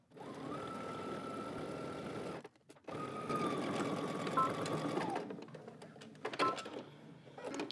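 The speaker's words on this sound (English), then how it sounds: "Now go ahead and serge your seam allowance." A serger sewing machine running fast to finish a seam allowance on an elastic-waist garment, a steady high whirring hum in two long bursts separated by a short pause, then scattered handling clicks.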